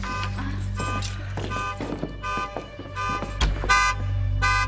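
A car alarm goes off nearby, repeating rapid electronic tones and honking bursts in a steady cycle, loud and insistent with faint background rumble.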